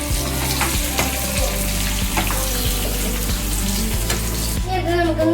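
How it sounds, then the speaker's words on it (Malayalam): Black raisins fry and are stirred in a pan while making kadachakka (breadfruit) payasam, a steady close sizzle broken by repeated scraping stir strokes, with no talk. "ഇനി അടുത്ത് ഇടാൻ പോണത് നമുക്ക് നമ്മുടെ കറുത്ത മുതിരിയാണ് നമുക്ക് ഇളക്കി കൊടുക്കാം"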